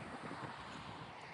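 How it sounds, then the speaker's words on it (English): Strong wind gusting across an open disc golf course at Begg Park, a steady broadband roar buffeting the microphone throughout with no clear breaks. "Wow, this is windy."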